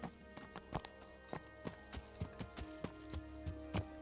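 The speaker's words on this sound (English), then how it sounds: "We can ride up on our horse and see what happens." Hooves clip-clop in Kingdom Come: Deliverance, a quiet, close series of sharp separate strikes at an uneven walking rhythm over a faint background hum.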